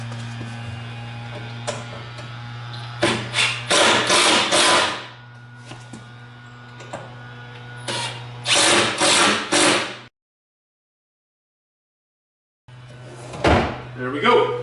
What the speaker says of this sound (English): Now we can drive these screws home.